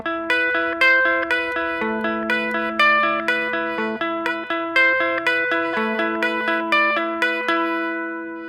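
An electric guitar picks a repeating fingerpicked riff, a clean, bright arpeggiated pattern of single plucked notes in an even rhythm, close and clear with no voice.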